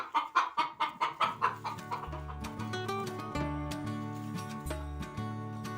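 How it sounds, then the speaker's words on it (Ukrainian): A startled hen in a nest lets out a rapid burst of loud, agitated clucks close by, then settles into softer, uneven clucking and squawks. "налякав курку у сусідньому гнізді."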